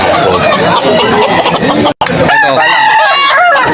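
A Sweater gamefowl rooster crows loudly and close at a busy pet market, two long strained calls with a short break between them, over background chatter.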